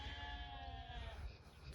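Sheep bleat on an off-grid homestead on a rainy day, a long wavering call near at hand over low rumbling background noise.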